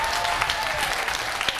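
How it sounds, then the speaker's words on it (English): Studio audience at a televised political debate in Gisborne applauding, a brief, steady burst of many hands clapping at close range with a few sharper individual claps standing out. "A round of applause for Derek Fox and Parakura Horomia."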